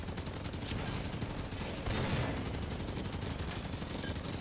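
Dense, sustained gunfire from the Halo 5 campaign on Legendary difficulty, a steady stream of rapid automatic shots running through the whole stretch with no pauses or talk.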